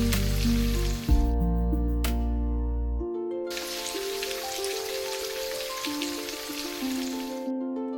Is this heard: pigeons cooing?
no